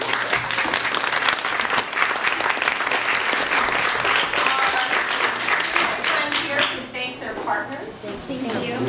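Audience applause at a board of education meeting: dense, loud clapping from a room of people, sustained the whole time before tapering slightly near the end.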